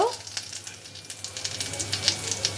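Cheese balls sizzle softly in hot frying oil as they are lifted out with a ladle, with faint crackling pops over a low hiss.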